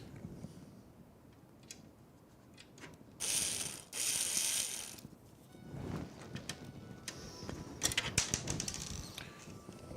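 A screwdriver drives screws during a PC build, making quiet clicking, ratcheting turns that come and go in short bursts, with a few louder clattery moments and no talk.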